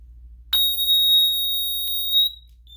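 A Resideo water leak sensor alarm sounds a loud, steady, piercing electronic tone lasting about two seconds, then cuts off, heard close up with nothing else over it.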